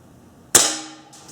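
A Benjamin Titan NP air rifle fires a pellet in a garage: one loud, sharp crack with a short ringing decay, followed by a faint impact.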